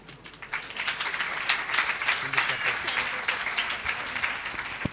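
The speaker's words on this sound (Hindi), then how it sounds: "और ज़ोर से ताली बजाएं" An audience in a church claps together in a sustained round of applause, dense and fairly near, swelling slightly and holding steady for the whole stretch.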